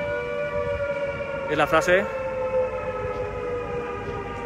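A civil defense siren wails steadily through an Alerta Roja protest in Zaragoza, its sustained tones running the whole time while a voice speaks over it and a brief burst of crowd noise rises midway.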